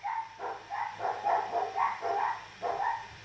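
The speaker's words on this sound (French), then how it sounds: "Ah les chiens, ça nous avait pas manqué sur les lives." Dogs barking indoors nearby, a string of about eight rhythmic barks at moderate loudness, heard alone with no talk over them.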